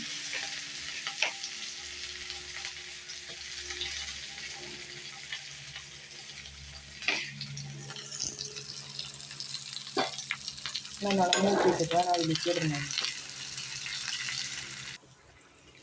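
Shallots and curry leaves frying in oil in a small clay pot for anchovy fish curry, a steady close sizzle with spatula stirring and scraping throughout, and a voice speaking briefly over it.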